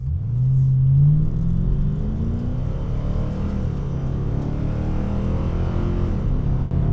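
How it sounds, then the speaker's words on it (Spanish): Muscle car engine and exhaust rumble steadily as it drives, a deep, loud, continuous drone with a brief swell at the start and no talking. "Escuchan un escape que ruge"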